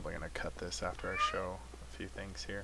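A cat from the Mo Creatures mod in Minecraft gives short meows at night, partly under someone talking close to the mic.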